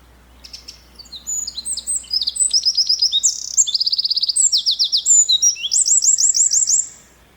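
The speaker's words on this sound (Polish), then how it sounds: "strzyżyk okazał się za głośny dla moich ustawień" A wren sings very close to the microphone, loud and bright, pouring out rapid high trills and chirping phrases one after another for several seconds over a faint low background hum.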